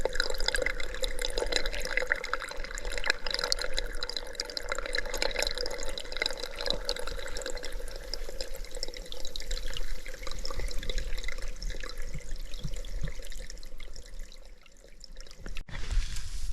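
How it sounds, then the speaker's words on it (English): A brook gurgles and trickles beside the Appalachian Trail in a quiet forest setting; a soft, continuous watery babble with small drips runs steadily throughout, close and fairly faint, ending with a brief abrupt cut. "If I'm quiet, maybe you can even hear the brook gurgling."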